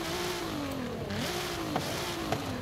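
A Nissan GT-R fitted with a new exhaust revs in Forza Horizon 5, its engine note wavering up and down in short pulls at a moderate, fairly distant level, with no voices.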